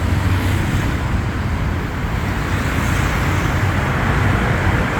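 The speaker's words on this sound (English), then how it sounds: "This road that's creating all the noise and traffic underneath this BTS is called Sukhumvit." Dense road traffic on Sukhumvit Road beneath the BTS elevated rail in Bangkok, a continuous loud roar of engines and tyres with low rumble and wind, no voices.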